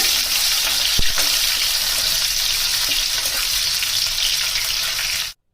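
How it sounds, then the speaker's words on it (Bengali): Potatoes fry lightly in hot oil with cumin seeds, giving a loud, steady, close sizzle that runs unbroken with a single faint knock before it cuts off abruptly. "প্রথমে আলু দিলাম, আলুটা হালকা ভেজে নেব।"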